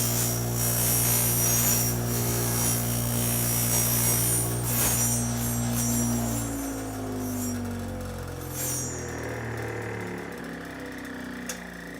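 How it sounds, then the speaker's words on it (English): A motor-driven buffing wheel hums steadily up close while deburring the cut end of a trimmed golf club shaft, its tone sinking and fading as the wheel spins down toward the end. "So I'm going to turn on the buffing wheel"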